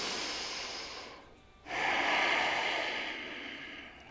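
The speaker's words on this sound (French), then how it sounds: "on prend d'abord une grande inspire et grande expire par le nez" A slow, deep breath drawn in and let out through the nose during a full-body yoga session, a soft airy rush that fades briefly and then swells louder and closer, heard alone without talk.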